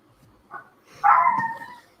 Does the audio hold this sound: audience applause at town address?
no